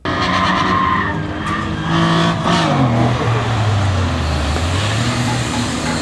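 A car drifting at a motorsport event near St. Louis, loud engine roaring and revving with long tire squeals and pitch sweeps as it slides through turns, close and sustained.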